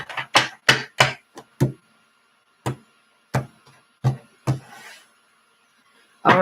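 A tarot card deck is shuffled close up, giving a string of crisp, irregular taps and slaps with short pauses between bursts and no voices.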